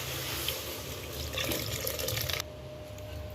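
Water streams steadily into a pot for vegetable brinji rice, a close, hissing pour that runs for about two seconds before cutting off, leaving only quiet room noise.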